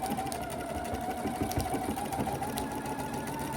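A sewing machine stitching a French seam in mesh fabric, a steady, close mechanical whir with rapid even ticking that runs unbroken throughout.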